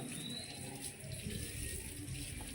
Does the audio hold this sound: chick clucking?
no